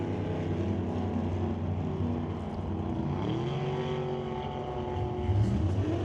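Drag racing cars at a Super Gas race, including a 1969 Corvette, roar steadily with a loud, continuous engine drone that shifts pitch partway through and swells slightly near the end, with no voices.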